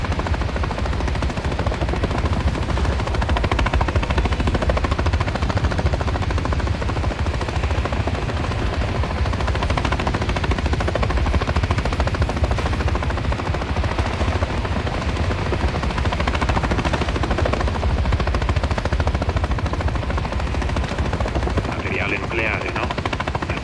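A helicopter roars continuously and loudly with rapid machine gun fire mixed in during a Call of Duty Modern Warfare 3 campaign mission, a dense, unbroken wall of rotor and gunfire noise with voices underneath.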